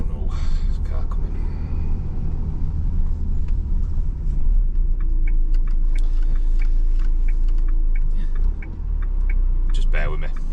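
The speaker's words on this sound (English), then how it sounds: "There's a car coming." A car approaching and passing along a quiet residential cul-de-sac, a steady low engine and tyre rumble holding loud throughout, with voices talking over it and a brief clatter near the end.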